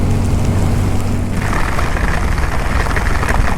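Steady, dense monsoon rain hiss with a low rumble underneath, loud and continuous throughout, heard on a motorcycle trip; a droning hum fades out early on.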